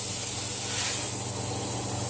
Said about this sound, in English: I just put some of my Country Crock in my pan here